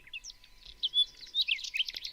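Birds chirping in a quick run of high, bright tweets and short trills that rise and fall over a quiet background, clear and fairly close with no talking.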